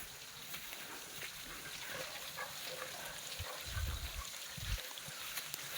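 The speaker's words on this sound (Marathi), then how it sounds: "पाणी पडतंय" Water falls and drips inside an ancient rock cave, making a steady, close splashing wash with a few heavier splats and low thuds.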